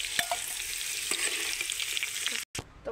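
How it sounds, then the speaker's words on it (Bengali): Potatoes fry in oil in a kadai with a steady close sizzle and scattered stirring knocks, cut by a brief silent gap near the end, no talk. "আলুগুলোকে সুন্দর লাল করে ভেজে নেব"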